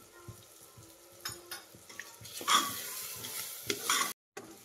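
Whole masoor masala roasting in oil in a pan, a quiet crackling sizzle with scattered spatula taps and scrapes that swells into a brighter fry near the end, close by and without speech.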